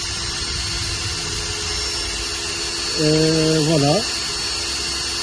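A power drill with a 4.5 mm bit boring into a Tesla Model X seat during a seat-riser install, a single whining burst of about one second that rises in pitch as it ends, heard over a steady background hum.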